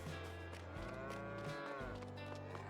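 Cows in the farming game Farming Simulator 22 low in long, deep, drawn-out moos, with one animal's call sliding and overlapping another, heard clearly over a faint background.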